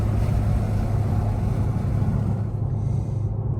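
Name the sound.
Infiniti Q60 engine running with upper downpipes, heard inside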